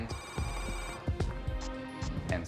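A telephone rings with repeated bell-like trills on a callback, alone and moderately loud against a quiet room.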